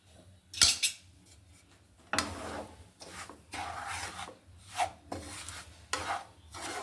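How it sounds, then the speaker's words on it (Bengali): Semolina is stirred in ghee in a pan, a spoon scraping and rasping against the metal in repeated strokes, close and fairly quiet, with no voices. "সুজিটা আমি ঘিয়ের মধ্যে ভেজে নিব"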